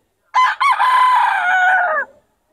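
A young stag rooster crows once at a poultry market in Bocaue, a loud, close call opening with a short note and then a long sustained crow of about one and a half seconds with a falling end, heard alone.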